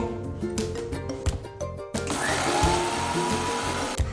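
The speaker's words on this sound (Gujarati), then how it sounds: "તો એ જ મિક્સરમાં આપણે જીરાને પીસી લઈએ." An electric mixer grinder starts up after a few clattering knocks and whirs steadily, its motor whine climbing as it grinds roasted cumin seeds.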